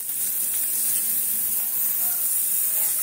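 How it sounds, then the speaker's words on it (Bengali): Pumpkin seeds fry in refined oil in a wok, giving a steady, close hissing sizzle that holds evenly throughout with no talking. "চলো এগুলো ভাজি, তারপর আসছি আমি"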